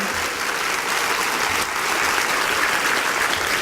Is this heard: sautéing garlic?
no